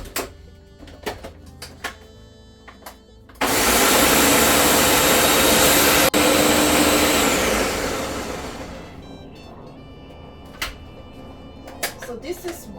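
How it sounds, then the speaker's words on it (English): A kitchen blender grinds oatmeal into powder in a loud, roaring burst lasting about five seconds, then winds down, with clicks and knocks of handling before and after. "So I'm going to add this to my blender."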